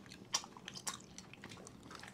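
Someone nearby eats food slowly, with soft, irregular bites and crunchy chewing, faint and close.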